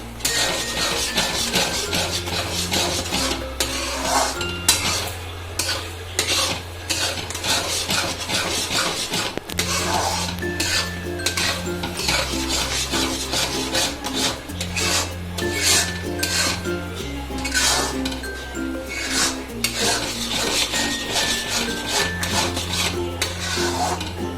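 A spoon scrapes and rubs steadily through thick Karachi halwa mixture in a pan, a continuous rasping stir repeated in quick strokes, heard over steady background music with no talk.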